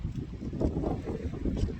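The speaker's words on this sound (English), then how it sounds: "It's this windy." Steady low rumbling wind buffeting the microphone at a mountain off-grid camp, continuous and fairly loud with gusty swells, no voices.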